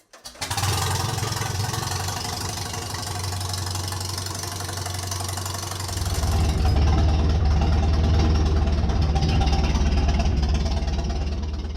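A 1935 Farmall F20 tractor engine starts and runs with a steady, low, throbbing chug, growing louder and rougher partway through as it revs up.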